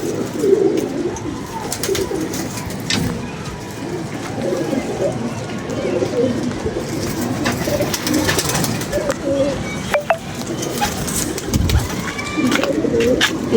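Pigeons coo steadily in a soft, rolling chorus close by, with people talking over the birds at times.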